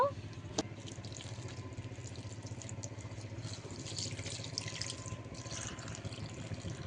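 Water poured into a kitchen bowl while ridge gourd is prepared for a poppy-seed posto dish, a steady running splash over a low constant hum, with no talking.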